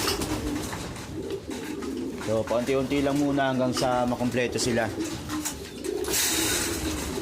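Low soft cooing of racing pigeons rumbles close by beneath someone speaking steadily.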